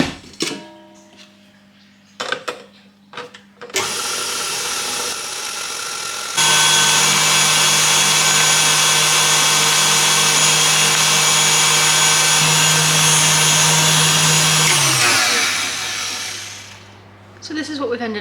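Electric whisk creaming brownie ingredients in a bowl, a steady loud whir running for about ten seconds, dipping slightly in pitch midway, after some brief clatters and before a short quiet pause.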